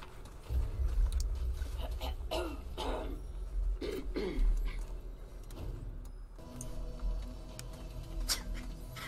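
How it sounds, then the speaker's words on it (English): A character coughing and wheezing in the video game Remnant, a series of rough, throaty hacks over a low rumbling game background. "God, Maya, fix your fucking cough. Your character's dying"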